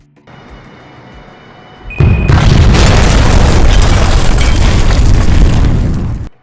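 A low rumble gives way to a sudden loud explosion of the Pan Am Flight 103 plane that roars and crackles for several seconds before cutting off.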